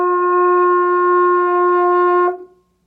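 A trumpet sounds a single open G with no valves pressed, one clear sustained tone held steadily for over two seconds before stopping and fading.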